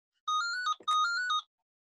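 Phone ringing with an incoming call, two short bursts of an electronic ringtone melody, clear and close in an otherwise quiet setting.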